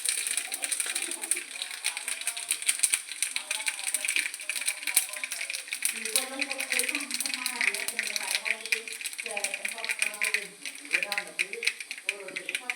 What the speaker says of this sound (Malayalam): ഇനിതാ ചീനച്ചട്ടി വെച്ചു, കടുക് അതിലേക്ക് കുറച്ചിട്ടു, പിന്നെ കുറച്ചിട്ടു നേരത്തെ തീര് പൊട്ടട്ടെ.